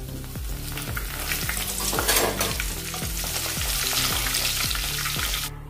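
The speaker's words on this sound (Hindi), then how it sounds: "अभी हम कड़ी पत्ता भुनेंगे, यानी तेल में तलेंगे कड़ी पत्ता।" Curry leaves crackle and sizzle in hot oil for a Diwali chivda namkeen mix, a steady loud frying hiss punctuated by regular spoon stirring knocks, close up with no talking.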